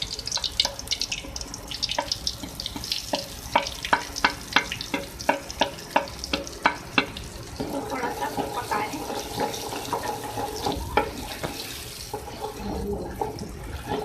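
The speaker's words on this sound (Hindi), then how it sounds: "फ्राई कर लेंगे इसको, हल्दी को मिर्च में।" Turmeric powder and chillies frying in hot oil for a masala dal, a steady close sizzle with a run of sharp spoon clinks and stirring strokes against the pan.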